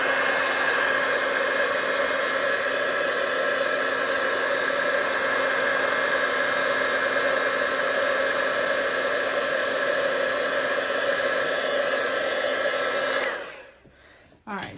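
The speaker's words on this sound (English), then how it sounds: "So now I'm gonna bring back the tool, the" A heat tool used for card making blows hot air in a loud, steady whirring roar with a constant pitch, running without a break for about thirteen seconds before it cuts off and winds down.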